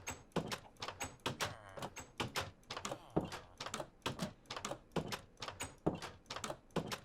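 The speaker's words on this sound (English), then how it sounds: "We also got some new sounds for doors." New wooden door sounds in Minecraft, a rapid series of about a dozen sharp clacking thunks at a fairly regular rhythm, each a short knock of opening or closing, heard close with no talk.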